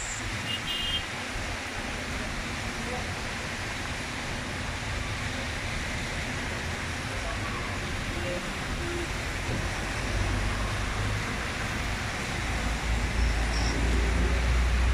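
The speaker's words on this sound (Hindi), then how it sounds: "अभी बारिश हल्की हल्की हो रही है, हल्की हल्की बूंदाबांदी चल रही है" Light drizzle falling after a heavy downpour that has left water pooled, a steady soft hiss with a low rumble of passing traffic growing near the end.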